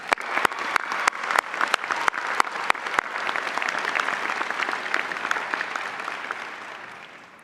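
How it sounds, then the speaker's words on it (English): Audience applause at a law school commencement ceremony, loud and sustained, with a few sharp individual claps standing out at the start before settling into dense, even clapping that fades slightly at the end. "Let's give them all a round of applause."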